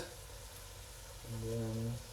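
Beef frying in hot oil in a pan, a close, steady sizzle with a brief tonal hum rising over it partway through.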